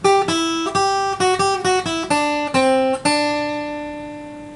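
A guitar plays a phrase from a song on the first and second strings: about a dozen crisp plucked notes in quick succession, with the final note left ringing out alone.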